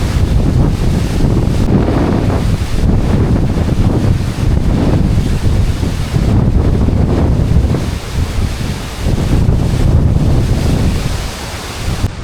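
Strong wind and rain buffet the microphone in loud, roaring gusts while sea waves crash and surge underneath on a stormy coast, with no voices.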